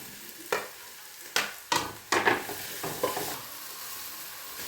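Onions sauté with curry leaves in a pan for a chicken thoran, giving a continuous soft sizzle. Several sharp scraping stir strokes cut through it at uneven intervals.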